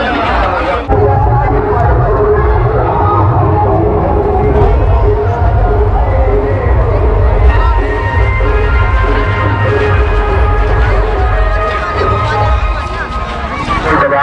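Large crowd at the Nawapara Tenda Laxmi fair in 2022, a dense, continuous babble of many voices with a low rumble and occasional clatter, loud and close throughout, with nearby talk mixed in.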